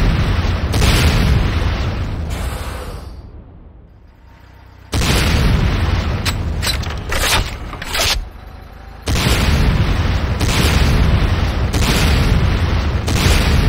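Loud explosions from structures being destroyed in the Command & Conquer Renegade game, with heavy booming bursts that swell and cut off repeatedly, a short quieter lull near the middle, and a dense, near, continuous roar.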